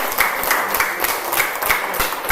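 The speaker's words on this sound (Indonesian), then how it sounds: "Oke, mari kita beri aplaus untuk Aslon." Students in a classroom applaud, with dense, fairly loud clapping that keeps up evenly the whole time and no talk over it.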